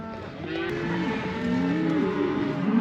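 Cows and calves mooing continuously at a calf catch gate, several overlapping low, drawn-out calls close by, rising and falling without pause.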